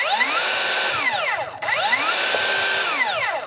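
A new RIDGID track saw's motor spins up to a loud, high whine and winds back down, twice in a row, close by with no talking.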